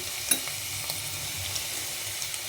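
Bitter gourd fry with coriander and green chili spice powder being mixed in a pan, a soft continuous sizzle with a few light spoon scrapes and taps, close and alone.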